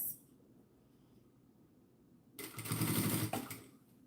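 A sewing machine stitching scrap fabric, quiet at first and then whirring into a loud, fast, steady run of stitches that stops briefly just before the end.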